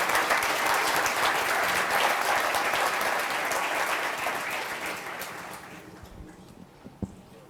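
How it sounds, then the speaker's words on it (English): Warm audience applause at a pan-African event greeting the President of the African Development Bank, full and steady at first, then gradually thinning out to a few scattered claps and a faint knock at the end. "give a very warm round of applause to the President of the African Development Bank, Mr. Donald Kaberuka"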